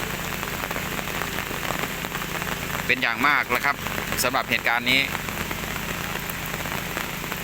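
Steady rain patters on a surface throughout, with someone speaking briefly over it in the middle.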